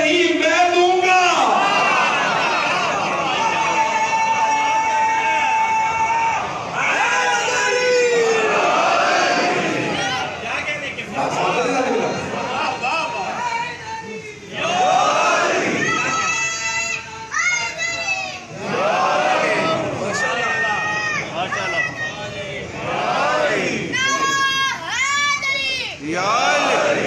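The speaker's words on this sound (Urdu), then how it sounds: "مجھے تعجب ہے میرے تبلیغی جملوں پہ مجھے اتنے نعرے دے رہے ہیں" A crowd at a Shia majlis gathering raises loud chanted slogans and calls, voices rising and falling in repeated surging waves for nearly half a minute, with a preacher's voice among them.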